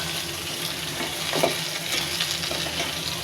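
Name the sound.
green beans frying with onion leaves and cumin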